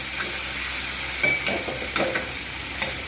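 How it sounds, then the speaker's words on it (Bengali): Chickpeas lightly frying in oil in a pan, a steady close sizzle broken by a few soft scrapes and stirring clicks, with no talking. "ছোলা আর আলাদা করে রাখবো না, হালকা করে জাস্ট ভেজে নিলাম।"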